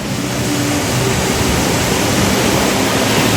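Ocean surf breaks along a rocky beachfront shore at Quimixto, a loud, continuous broadband rush of churning water that fills the whole stretch without pause, close and steady.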